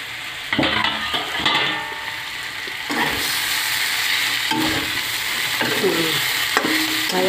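Potatoes fry and sizzle in a pan as they are stirred, with loud scraping and clinking utensil strokes over a constant hiss of hot oil, close up.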